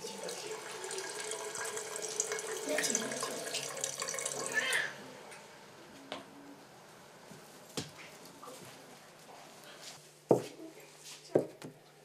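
A bathroom tap runs steadily in a Moroccan home as sisters wash, water splashing for several seconds before it stops, followed by scattered drips, knocks and faint movement.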